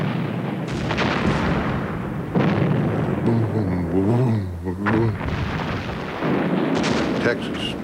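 Naval bombardment off the Normandy coast, with the battleship Texas lobbing 2,000-pound shells into the shoreline: deep, rumbling blasts and booms roll on continuously, with a voice briefly audible in the middle.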